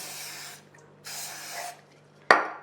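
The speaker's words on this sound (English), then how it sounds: "I'll just give it a little spray." Two hissing sprays from a spray bottle onto a palm wax pillar candle, each about half a second long, followed by a sharp plastic click, close and quiet.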